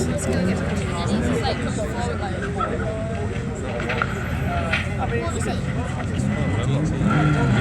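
A Honda Civic runs in the front-wheel drive class at an airfield drag racing event, its engine roaring steadily through the whole stretch amid crowd and track noise, with a commentator talking over it.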